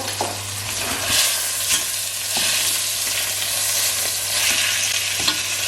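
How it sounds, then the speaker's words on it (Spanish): Chicken pieces seared in a hot pan with thyme and rosemary nearby, a steady loud sizzle with scraping and turning knocks, no talk. "Voy a darle vueltas al pollo."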